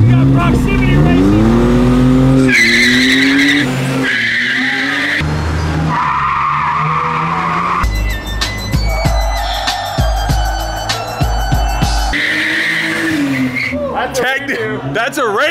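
Daily driver cars drag racing, with engines revving and rising in pitch, loud tire squeals and skidding, and a busy crowd of voices talking over the noise throughout.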